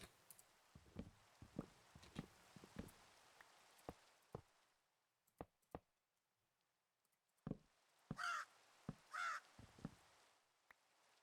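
Crows caw in a video game set on a Minecraft-style survival server: a few loud harsh caws near the end, over a rain-like patter and scattered knocks and taps earlier.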